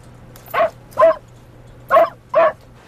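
A voice imitates a dog barking, giving four short yappy woofs in two pairs, close and loud against a quiet background.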